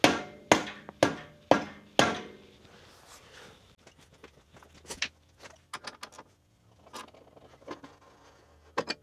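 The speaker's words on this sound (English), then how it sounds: "grab yourself a rubber mallet and kind of start helping that axle off, or out rather" A rubber mallet taps a touring motorcycle axle out, with five sharp evenly spaced blows up close, followed by softer scattered knocks and shuffling handling noises.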